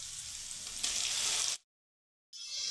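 Chopped tomatoes sizzle loudly in a pan with onion, ginger and chilli, a steady frying hiss that cuts out abruptly for a moment before resuming.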